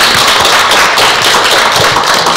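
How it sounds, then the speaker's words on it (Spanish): Applause at a Mexican national moot court event: loud, dense, continuous clapping from a large audience, steady throughout with no pauses. "necesitamos un gran aplauso para ellos"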